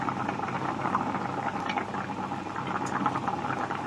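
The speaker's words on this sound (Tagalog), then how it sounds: "Talagang kumukulo na siya." Steady bubbling and simmering of fish stew in a pot, a continuous busy texture with small pops, fairly close and even in loudness throughout.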